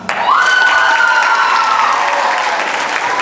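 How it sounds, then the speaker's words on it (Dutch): A large audience applauds and cheers for a young choir from Landgraaf at a festival concert, a dense, steady wave of clapping with a whistle-like cheer rising early, loud throughout. "Een heel groot applaus voor de jonge singers uit Landgraaf."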